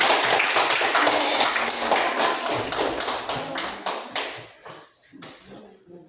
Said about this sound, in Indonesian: Mari kita tepuk tangan sekali lagi.